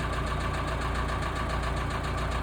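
A Massey Ferguson diesel tractor engine runs at a steady idle, close and loud, with a rapid regular knocking pulse and constant low rumble.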